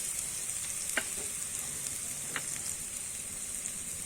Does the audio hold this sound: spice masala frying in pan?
yes